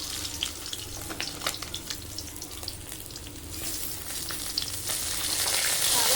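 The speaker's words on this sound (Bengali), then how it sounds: "এখানে কড়াইয়ে মাছ ভাজা হচ্ছে" Bata fish pieces coated in salt and turmeric frying in a wok, a steady close crackling sizzle with scattered pops that grows louder and more hissing toward the end.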